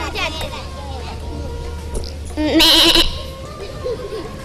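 On a live Ramadan iftar television show, a person imitates a goat with a short, wavering bleat partway through, rising above a steady background of studio chatter and talk.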